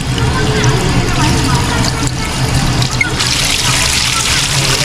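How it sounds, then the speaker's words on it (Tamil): Tap water runs continuously with a steady splashing rush, close by, as cooking items are rinsed; the flow brightens and strengthens toward the end. "தண்ணியை திறந்து விட்டு நல்லா கழுவிக்கங்க எல்லாத்தையும் ஒரு தடவை."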